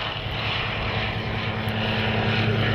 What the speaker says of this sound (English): the largest single-engine production biplane in the world, called the Colt in the Western world